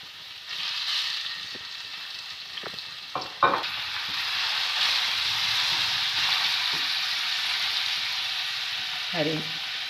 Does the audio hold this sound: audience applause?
no